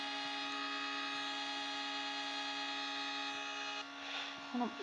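Sustained car horns blare in a racing video game, a steady layered honk held for several seconds before it cuts off, followed by a brief rustle and a faint voice.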